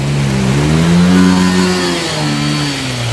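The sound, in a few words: motorcycle passing on a flooded bridge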